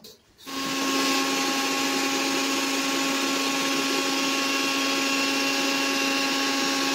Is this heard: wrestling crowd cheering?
no